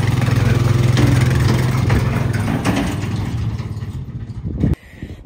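A pumpkin taxi vehicle rolls down a hill at a pumpkin patch, its low engine drone steady and close, then thinning out near the end with a brief knock and a drop in level.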